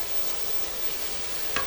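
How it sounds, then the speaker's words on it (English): Pork and bacon sauteing in a pot for gandule rice, a dense, steady sizzle with a brief clink or stir near the end, close and without talk. "now that we got the pork and bacon sauteed down"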